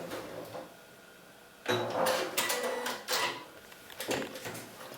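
Janome MC 6700P electronic sewing machine stitching at reduced speed with a reverse backstitch to finish the seam, short bursts of rapid mechanical whirring and clatter separated by quieter pauses, no talk.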